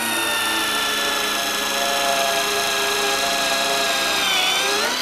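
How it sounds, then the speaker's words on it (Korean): Impact driver fitted with a universal drill bit boring into a wooden stud, a loud steady motor whine with a continuous whirring drone held for the whole stretch, close by and without talk. "나무를 뚫었을 때 임팩트 드라이버와 드릴 드라이버로 뚫어볼 텐데"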